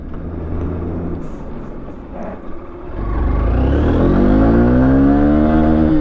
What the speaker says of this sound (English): let me give the throttle once